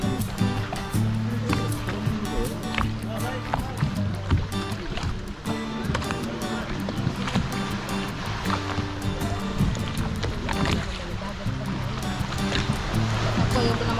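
Waves slapping and churning against a boat out at sea, a steady watery wash with knocks and splashes running throughout, with voices talking over it.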